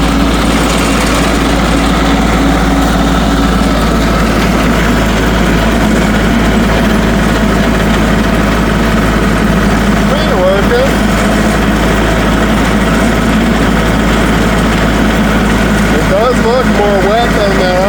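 A farm tiller engine runs loud and close with a constant droning hum that never lets up, and a voice comes through faintly now and then.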